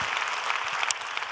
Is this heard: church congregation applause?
yes